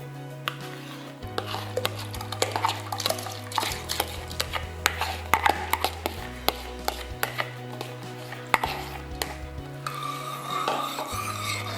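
Soaked rice tipped into a pot of simmering milk and stirred, giving scraping, tapping spoon-on-pot knocks and soft sloshing in an irregular rhythm, close and fairly quiet, with no voices.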